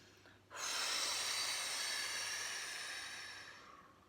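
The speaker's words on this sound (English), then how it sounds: "And again, breathing in through your nose." One long, steady breath drawn in through the nose, a soft airy hiss lasting a few seconds before fading out.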